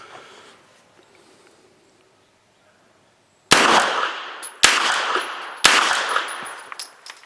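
Three loud, sharp gunshots from a PWS PCC 9mm pistol firing heavy 158-grain subsonic round-nose rounds, spaced about a second apart, each with a ringing metallic tail, after a quiet stretch.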